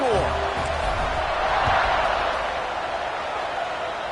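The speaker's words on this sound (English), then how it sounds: "this crowd is buzzing after that last score" Stadium crowd in a college football video game keeps up a constant distant buzzing murmur, with a faint thump near the start, under a commentator's voice.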